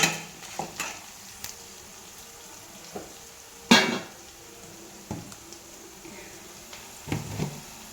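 Onions sauté in a pan while turmeric is stirred in for semiya upma, giving a steady low sizzle broken by a few sharp scrapes and clinks of a spoon against the pan, with no talk.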